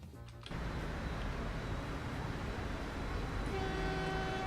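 Transport Fever simulation train running: a steady low rumble of rolling stock begins after a short quiet moment, joined near the end by a sustained tonal whistle or horn, with no voices.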